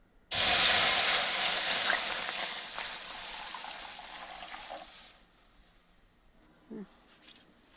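Milk hits a hot pan of semolina fried red with curry leaves, setting off a sudden loud sizzling hiss that fades slowly over several seconds. A couple of soft clinks follow in the near-quiet.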